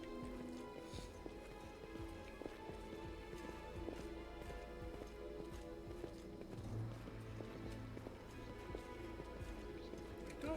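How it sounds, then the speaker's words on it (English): Steady clip-clop of horse hooves in a video game keeps an even rhythm over a busy, constant background, with faint talk at moments. "I'm just riding a horse through here."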